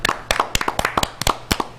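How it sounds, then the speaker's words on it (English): A few people clap for Al in a small room, giving sparse, uneven handclaps at close range, about a dozen sharp claps over under two seconds. "Let's all give Al a round of applause"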